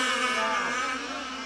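Offshore racing powerboats passing on open water, a steady high-pitched engine whine from a distance that holds evenly, then eases slightly toward the end.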